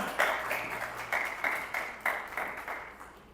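Audience applause welcoming the next speaker at an academic lecture, a short round of scattered hand clapping in uneven bursts that fades away toward the end, with no talking over it.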